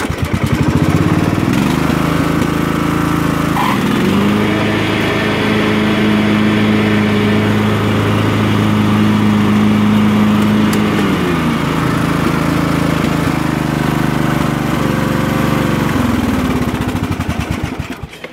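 Craftsman LT1000 lawn tractor running steadily with its mower deck engaged, a loud continuous engine drone whose pitch rises as the blades engage and holds for most of the span, close by with no talking.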